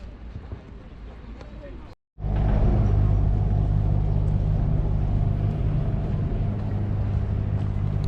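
A bus drives along the road beside Lake Como in Italy, its engine giving a steady low rumble that starts after a brief silence and continues loud and close.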